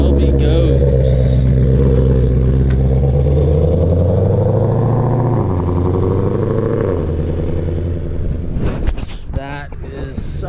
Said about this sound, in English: And there the Shelby goes